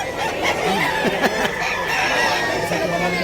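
Chickens and roosters at a crowded pet market in Bulacan, loud close clucking and squawking from many birds with rising calls over a busy background hum, no clear talk.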